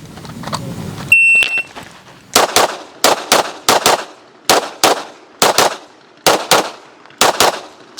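Pistol shots ring out on a USPSA range drill after a sharp electronic shot-timer beep, fired in quick pairs and short strings, loud and crisp with clear gaps between groups.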